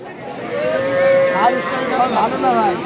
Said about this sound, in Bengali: পাকিস্তানি সিন্ধি বকনা গরু।